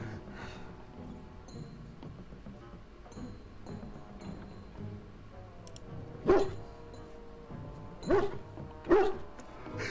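Dogs barking in a video game, several short sharp barks near the end, spaced a second or two apart, over a quiet ambient backdrop with faint clicks and a low hum.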